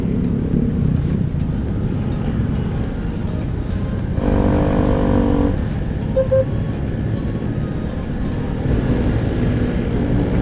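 Dense morning traffic on Commonwealth Avenue rumbles steadily around a ride on a motorcycle taxi, a loud, continuous engine and road roar with passing vehicles and a brief tonal swell midway.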